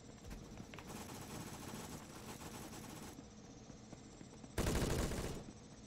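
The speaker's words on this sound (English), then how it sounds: "Stop shooting at me!" Rapid automatic gunfire from a Roblox Phantom Forces match, a dense continuous rattle of shots throughout with a louder close burst near the end, no talking.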